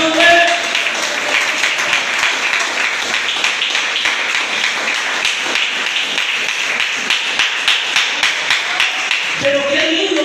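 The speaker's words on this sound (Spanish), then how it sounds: "Denle un aplauso al Espíritu Santo." Church congregation applauding during a Spanish-language sermon on the family, a steady dense patter of many hands clapping for about ten seconds, fairly close and loud, with a few voices at the start and end.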